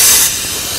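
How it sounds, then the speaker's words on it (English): Compressed air blasts from the drain valve of a truck air brake wet tank in one loud, steady hiss that eases slightly partway through. "Okay, so since I found my wet tank, so I'm gonna drain it."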